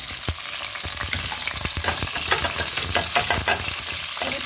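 Onion frying in hot oil in a home kitchen for an egg fry dish, a dense, steady sizzle close up with frequent scraping stirs of a spatula in the pan.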